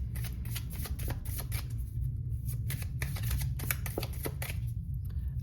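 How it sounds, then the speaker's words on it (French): Lenormand oracle cards being shuffled by hand, a steady, close riffling and flicking of card stock continuing for several seconds over a low background hum. "Je vais prendre des cartes du Lenormand."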